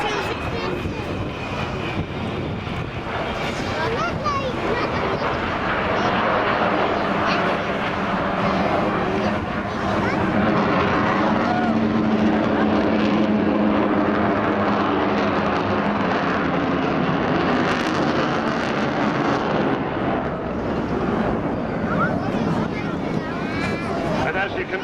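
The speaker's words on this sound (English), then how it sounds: "I think we're probably going to hear the engines powering up any time now." The Avro Vulcan bomber XH558 drones steadily overhead at the 2012 Clacton Air Show, its engines a broad continuous roar swelling and fading with gusty wind noise, while a commentator talks over it.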